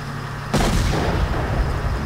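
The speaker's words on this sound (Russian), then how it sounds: "Броня выдержала взрыв." A single heavy boom erupts suddenly and rumbles away in S.T.A.L.K.E.R., a loud deep blast with a lingering low roar.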